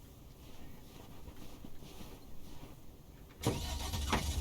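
A van driving in the video game Lake, a low steady engine rumble under wind noise that swells into a louder, fuller engine roar near the end.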